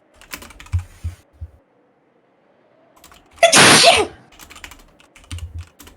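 One loud, close sneeze bursts out after quiet computer keyboard typing, with soft keystrokes before and after it.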